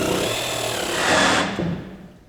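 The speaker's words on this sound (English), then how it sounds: "So I'll rule the line across and cut it out using my jigsaw." A jigsaw cuts across a board for a kids' playhouse, a loud, close buzzing rasp that swells midway and then winds down as the cut finishes.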